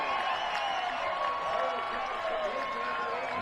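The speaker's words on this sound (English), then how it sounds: "Listen to that home crowd." A home crowd at a high school football game on senior night roars after a touchdown, a sustained distant wash of cheering and applause under a commentator's voice.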